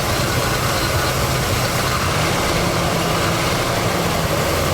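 A 1979 Chevy G20 custom van idles steadily after decades of sitting, giving a loud, constant low engine rumble heard close up with no talking.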